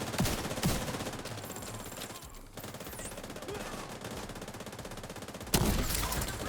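Gunfire in a video game during a headshot, rapid bursts of shots running steadily through the whole stretch with a louder burst near the end, no voices.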